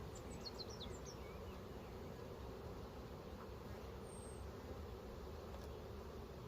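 Honeybees buzz steadily at an open beehive colony during a spring hive inspection, a continuous, even drone with a few fainter high whines from individual bees passing close.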